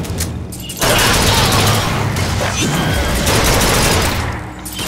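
Rapid gunfire from a weapon in BioShock Infinite on hard difficulty, a dense, loud, continuous burst of shots lasting several seconds after a brief quieter opening, with a voice faintly mixed in.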